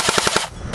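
Gunfire at target practice: a fast, loud, close burst of four shots in under half a second, followed by a brief ringing tail.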